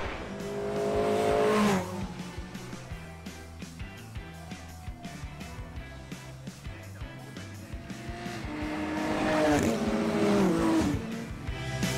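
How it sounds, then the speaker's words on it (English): A TVR Tuscan race car drives at Knockhill circuit, its engine roaring loud and close at the start, easing into a steady drone, then swelling again as it approaches. "Great to see Big Stu, as he's known in the paddock, drive that Tuscan up towards the chequered flag."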